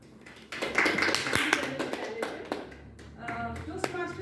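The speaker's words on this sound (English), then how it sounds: "Big round of applause." Applause breaks out at a Toastmasters club meeting, a burst of steady clapping that tapers into scattered claps while people talk underneath.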